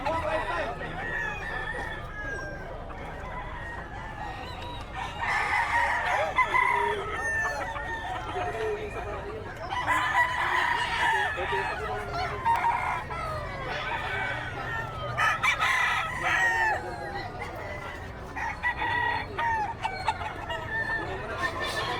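Chickens cluck steadily while roosters crow in several bursts, moderately near, at an outdoor pet market in Bocaue, Philippines, with faint background voices now and then.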